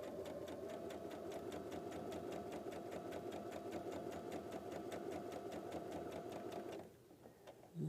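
A sewing machine stitches a quilt block in a fast, even run of rapid mechanical clicks close to the microphone. The stitching stops near the end.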